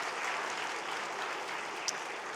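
A church congregation at a Sunday service in Korea applauds together, a steady dense clapping that fills the room at an even level, with no talk over it.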